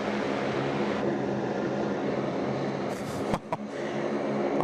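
A jet taxiing at Sydney Airport gives a steady, loud broadband engine roar that holds throughout, with a couple of brief louder bursts near the end.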